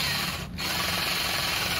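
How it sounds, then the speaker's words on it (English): A power drill bores down through a timber boom near its end, a steady loud whirring grind with a brief dip in pitch partway through, then a continuous even hum. "then we drill down through."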